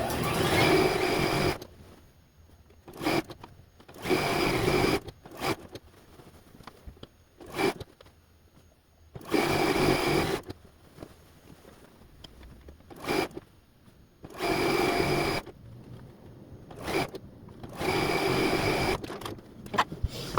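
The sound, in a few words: sewing machine stitching a large quilt top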